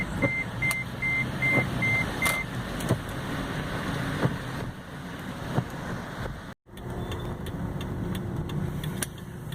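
A steady series of about six evenly spaced reversing beeps sounds over engine and downtown traffic noise, then stops while the rumble continues.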